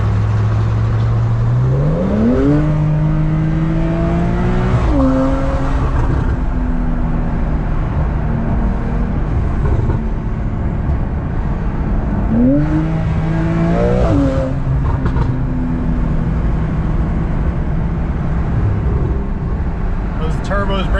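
A turbocharged car engine revving up twice, each climb rising in pitch then dropping back to a loud, steady drone, with a voice talking over it.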